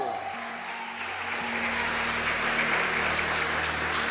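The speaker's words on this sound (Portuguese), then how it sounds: "Palmas" A church congregation claps during worship, a dense, sustained wash of applause layered over a low held musical tone, with voices faintly mixed in.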